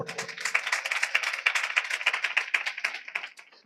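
A church congregation claps hard and steadily during Sunday worship, a dense run of sharp hand claps that stays loud before easing off near the end.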